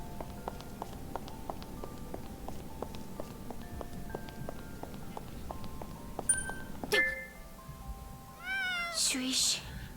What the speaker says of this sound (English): Meow, it's coming from in here.